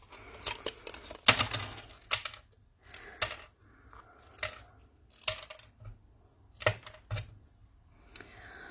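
Scissors snip through stiff cardboard in a series of sharp, irregular cuts with short pauses between them, close and fairly quiet.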